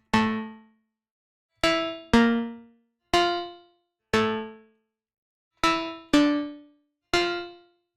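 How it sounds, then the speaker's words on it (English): A dry Massive X synth preset with no reverb or delay plays eight bright, bell-like struck notes in an uneven rhythm, each ringing briefly and decaying cleanly into silence, with no voices. "for the main synth, I'm just using Massive X, and I think I'm using this first preset"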